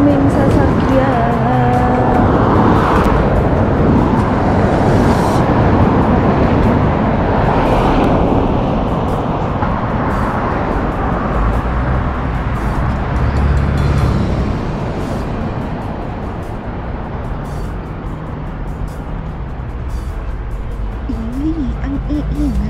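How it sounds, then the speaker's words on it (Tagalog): Heavy road traffic on a busy street in Jerusalem, Israel, a loud, dense wash of passing cars and engines that eases slightly toward the end, with a voice speaking briefly underneath. "Daming sasakyan."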